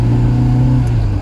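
A Matra Murena's engine idles as it warms up, a steady, close mid-pitched hum holding evenly for a moment with a slight shift near the end.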